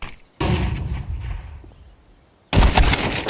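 Two sharp, loud blasts of a flashbang grenade in Counter-Strike 2, one near the start with a decaying ring and another bursting at the end, separated by a fading tail.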